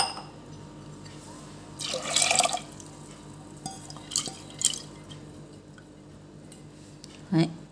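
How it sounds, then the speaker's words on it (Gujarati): Water splashes and pours into a metal pressure cooker over mixed pulses in a few short bursts, with clinks of cookware in between and quiet background noise. "એક ગ્લાસ જેટલું પાણી એડ કરીશું"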